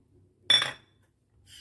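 Dry rice mixed with moong, toor and chana dal is stirred in a bowl, giving a short, bright rattling clatter of grains against the bowl. A fainter second rustle follows a moment later.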